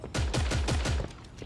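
Gunfire in the video game Creative Destruction: a rapid burst of about six heavy, booming shots in quick succession, loud and close, then a fading tail.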